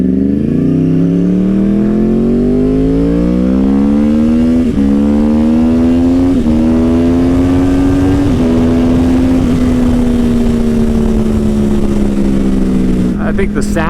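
Loud, close motorcycle fitted with a Toast exhaust revving up in one long sweep, the pitch climbing steadily and then holding high with a rough, buzzing tone.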